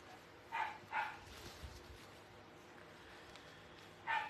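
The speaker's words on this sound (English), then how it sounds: "sorry about the dogs" Dogs barking indoors at a distance, two quick barks close together early on and another near the end, with quiet room noise between them.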